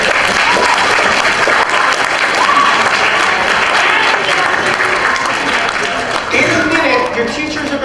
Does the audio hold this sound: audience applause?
yes